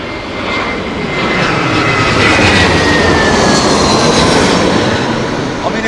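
An ATR turboprop airliner roars through stormy conditions at Heathrow, a loud, close, broadband engine rush that swells and holds steady with a faint whining tone sweeping through it.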